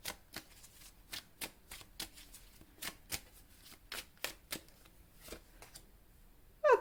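Tarot cards shuffled by hand, a run of crisp, evenly spaced riffles and slaps close to the microphone, ending with a short card flick as a draw is made.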